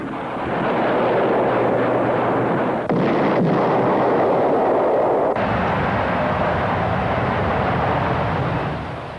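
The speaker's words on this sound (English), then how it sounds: "Another Marine Flieger and Aeronautica Militare weapon is the Cormoran anti-ship" A Cormoran anti-ship guided missile, a naval air arm weapon, launches with a loud, sustained rushing roar that shifts in tone partway through and continues without pause.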